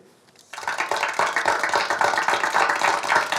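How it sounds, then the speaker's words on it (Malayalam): A classroom of students breaking into applause, dense rapid clapping from many hands that starts abruptly after a brief quiet moment and continues steadily at close range. "എല്ലാവരും അമ്പാടിക്ക് ഒരു കൈയടി കൊടുക്കുക."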